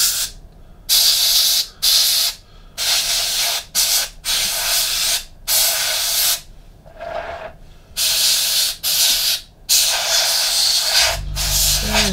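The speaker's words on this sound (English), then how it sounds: "flat areas, just give them a bit of a spray on top just to break it up." An airbrush sprays paint onto a Meng 1/35 Terminator scale model in repeated short bursts of bright hiss separated by brief pauses, close and fairly loud, ending with a low thump.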